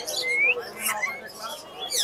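A lory parrot at a busy bird market gives short rising whistles and chirps, a few quick calls over a faint background murmur.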